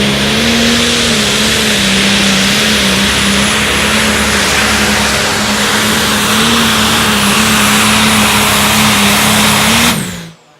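A diesel pulling truck's engine roars at full power during a pro stock truck pull competition, a loud, sustained, droning blast lasting about ten seconds before cutting off sharply.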